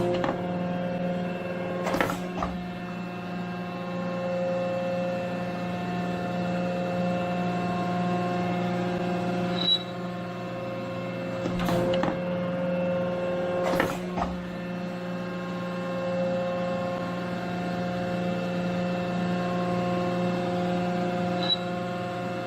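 A milling machine surfaces stress-relieved cast iron on automatic feed with about a quarter-inch step over, producing a steady tonal motor hum with a few sharp clicks spaced through the run.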